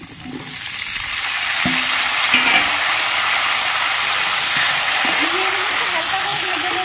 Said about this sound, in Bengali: কেটে রাখা ঝিঙেগুলো দিয়ে দিচ্ছি।